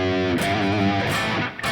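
Electric guitar through high-gain distortion played live, thick sustained chords and bent notes with rich buzzing harmonics, loud and close, ending with brief pick attacks.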